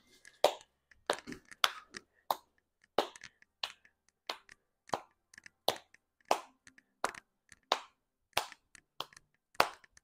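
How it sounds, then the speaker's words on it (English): A person clapping hands during a dog relaxation training session, sharp separate claps spaced about every half to one second, some in quick pairs, close and clear against near silence. "Oh, I forgot to clap my hands."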